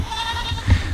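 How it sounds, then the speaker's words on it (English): Goats following a person near a hay pasture bleat, giving a short, nasal, wavering call up close over faint outdoor background. "Seems like the goats are following me."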